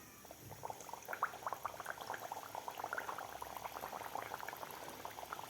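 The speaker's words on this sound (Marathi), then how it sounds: "आता आपल्याला एक एक सांजूर यामध्ये तळून घ्यायचे आहे" Sanjori, Maharashtrian festival pastries of semolina and jaggery, frying one at a time in oil over medium heat, giving a steady, dense bubbling crackle close by with no talk.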